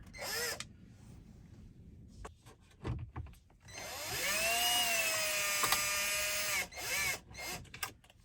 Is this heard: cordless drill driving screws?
yes